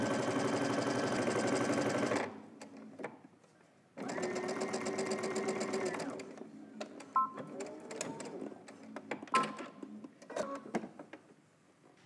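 A sewing machine stitches a collar seam in two close, loud runs of rapid mechanical whirring, separated by a pause, followed by quieter handling clicks and rustles.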